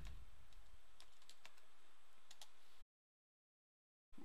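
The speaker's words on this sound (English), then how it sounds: "Type in the word Workflow." Computer keyboard typing during an online service setup: a quick cluster of light key clicks over soft room noise, stopping abruptly into silence before a brief sound at the end.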